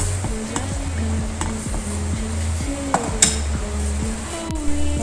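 Rambutan syrup stirred in a cooking pot, a utensil scraping and knocking against the metal in a steady repeating rhythm, with a faint simmering sizzle underneath and an occasional sharper clink.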